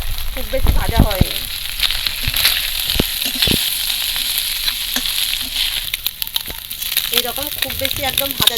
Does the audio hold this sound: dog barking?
no